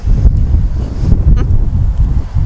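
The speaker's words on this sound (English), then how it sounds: "It is a little windy today, sorry if it's interfering with the audio." Wind buffets a microphone outdoors at an old pioneer cemetery, a steady low rumble with gusty surges running the whole time.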